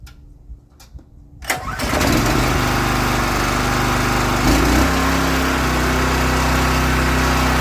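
A small pressure washer engine starts with a couple of pulls, then roars steadily at high revs, loud and close, with no talking.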